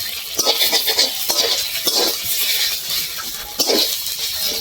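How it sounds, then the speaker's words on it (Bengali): Bottle gourd leaves fry in hot oil in a pan, a steady close sizzle with stirring scrapes and occasional clatters throughout, no voices. "পাতাটা ভালো করে ভেজে নিতে হবে"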